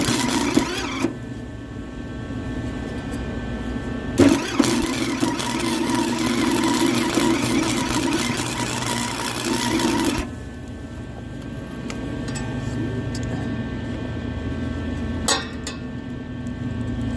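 Portable welder's engine on a job site, a loud steady mid-pitched running drone that shifts in tone partway through and holds throughout, with occasional clunks.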